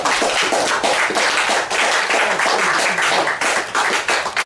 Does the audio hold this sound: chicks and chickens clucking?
no